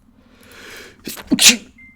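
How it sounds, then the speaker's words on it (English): One close, sharp human sneeze with a short intake of breath, then an explosive burst, loud and alone in an otherwise quiet room. "Sorry, I had to sneeze."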